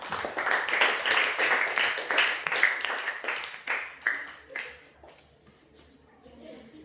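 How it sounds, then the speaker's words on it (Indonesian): Classroom applause for a group of students after their presentation, a burst of many hands clapping that is loud at first, then thins and fades to scattered claps and quiet room noise. "Mari kita tepuk tangan dulu untuk kelompok 5"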